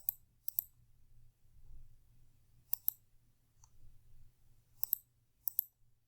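Crisp plastic calculator keys click in quick pairs several times as matrix data is typed in, the presses close and clear over a faint low background hum.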